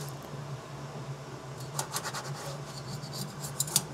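A plastic scraper rubbed across a 3D printer bed: faint hum at first, then a run of short, rasping scrape strokes in quick rhythm, close and fairly quiet.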